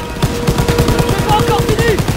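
Rapid automatic gunfire in Call of Duty WWII, a World War II shooter, with steady bursts of shots rattling close and loud through the clip amid battle noise and brief shouting voices.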